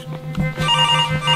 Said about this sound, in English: Oh, this phone's ringing.